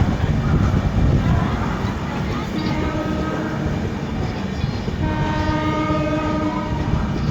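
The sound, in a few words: Champaran Humsafar Express train passing with horn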